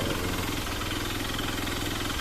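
A car engine idling and warming up early in the morning before a drive to church, a steady rumbling drone that holds even throughout, with no speech.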